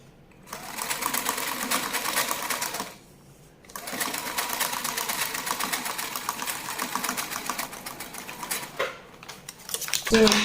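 A sewing machine stitches a seam on a Bubu kaftan gown, running in a steady rapid mechanical chatter for a few seconds, pausing briefly, then running again at length before slowing to a stop.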